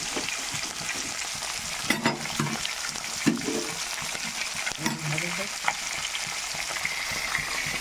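Tilapia and khoira fish frying in oil in a wok, a steady loud sizzle running throughout with a few sharper scraping stirs of a spatula.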